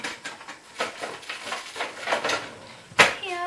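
A spatula scrapes creamed butter and sugar cake batter from the sides of a mixing bowl in a series of soft, close scraping strokes, with one sharper knock near the end followed by a brief voice.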